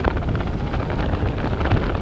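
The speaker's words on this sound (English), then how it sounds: "We get a gust of wind here coming through." A gust of wind sweeps across an outdoor boys' high school soccer field, a steady, loud broadband rush buffeting the microphone for the whole moment, with no one talking.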